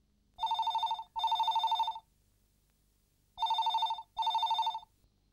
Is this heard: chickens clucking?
no